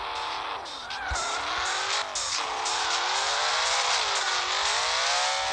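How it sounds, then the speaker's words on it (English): A toy or model car drives steadily, its motor whine rising and falling in pitch over a continuous buzzing hum, fairly loud and close with no talking. "This car doesn't really go that fast."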